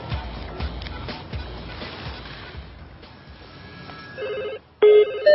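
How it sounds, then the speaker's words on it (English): About 100 mobile phones begin ringing toward the end, electronic ringtone tones overlapping in quick succession after a stretch of rumbling background noise. "We've got a further 100 mobile phones ready to ring them."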